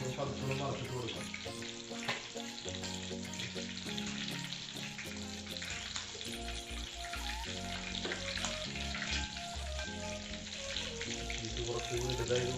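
Large chicken pieces deep-frying in hot oil, KFC-style, browning on one side. A steady, dense sizzle runs throughout, with background music playing over it.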